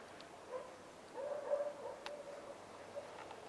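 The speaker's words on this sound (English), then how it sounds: "You can hear in the distance the dogs barking." Faint dogs barking far off in Yakutia, Siberia, a few scattered yips and barks rising briefly over a quiet, steady outdoor background.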